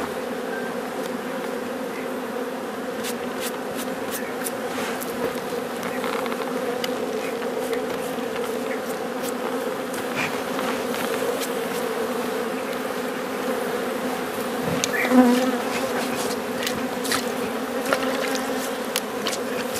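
Honeybees drone steadily at a hive being smoked during organic honey harvesting in Bingöl, a dense continuous buzz with insects passing close, and one brief louder swell partway through; no voices.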